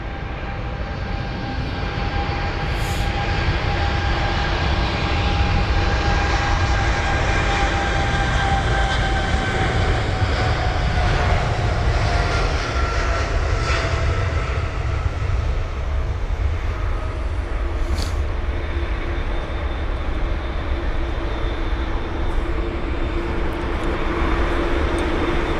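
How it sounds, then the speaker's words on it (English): A Turkish Airlines Boeing 777-300ER roaring on takeoff at London Heathrow, a loud, sustained jet roar with whining engine tones that slowly fall in pitch as it climbs away, continuous and unbroken. "what's that roaring away? It's going to be the Turkish Airlines 777-300ER"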